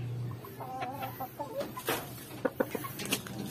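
Several two-month-old Belgian Shamo chicks cluck softly in short, scattered calls over a low background hum, close by and fairly quiet.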